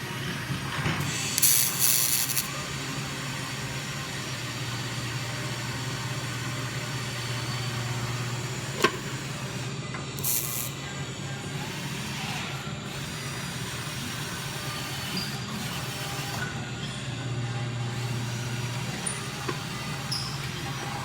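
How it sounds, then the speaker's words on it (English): Steel rosette weld laid down on a 1955 Chevy Nomad body, a steady close crackling hiss over a low electrical hum that runs unbroken for about twenty seconds, with no talking. "That was the steel welded up rosette weld."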